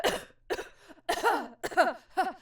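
Two people cough and clear their throats while eating sour chew bars in a food challenge: five close, sharp bursts in quick succession, some rough and throaty, with short pauses between.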